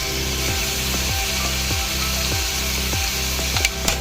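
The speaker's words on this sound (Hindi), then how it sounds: "अब इसको हमने तकरीबन 4 से 5 मिनट अच्छे से बुनाई करनी है।" Spices and masala, including turmeric and coriander powder, frying in a pan for a chicken lasagne filling, with a steady loud sizzle broken by rhythmic scraping strokes of a spoon about every half second, no talk.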